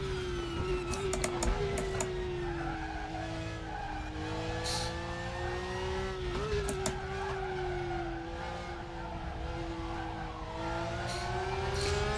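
A Porsche race car engine in the Raceroom racing game holds a steady high drone in second gear through a long corner, with brief pitch rises and small tire and kerb noises, loud and continuous.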